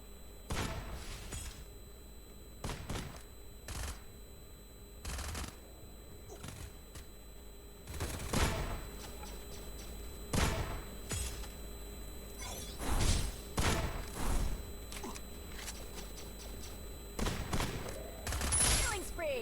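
Gunfire in the mobile shooting game Free Fire, with sharp single shots and short bursts scattered irregularly over a quiet background, each crack loud and close, with some game effects between them.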